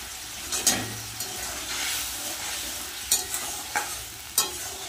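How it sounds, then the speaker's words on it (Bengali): Spice paste (masala) being stir-fried in oil in a pan while making chhana and green banana kofta, a steady close sizzle broken by several sharp scraping stirs of the spatula, with no talking. "মশলাটা ভালো করে কষানো হয়ে গেছে, মশলা থেকে তেলও ছেড়ে দিয়েছে।"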